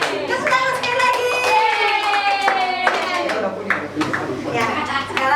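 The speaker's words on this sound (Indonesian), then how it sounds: "Tepuk tangan sekali lagi." Children clap their hands together at a Sunday school service, a busy scatter of claps across the room mixed with singing voices and chatter.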